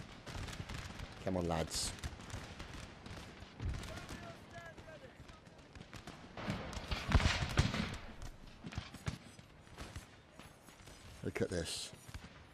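Scattered musket shots crack out at a 200th anniversary reenactment of the Battle of Waterloo, firing into the French, with irregular bursts near and far, some clustered into volleys, amid shouted commands and talk.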